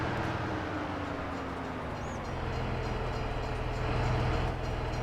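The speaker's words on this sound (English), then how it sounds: "So you can see the train going through before the barricades go down." A train in the video game Farm Sim 22 rolls past a level crossing with a steady, continuous rumble and low engine drone, loud and close throughout.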